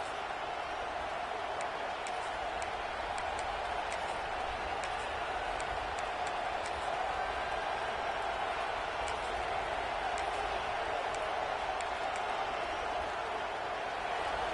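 Roaring stadium crowd at an Arkansas versus FSU college football game, a sustained loud wall of noise from the stands with faint announcer talk underneath.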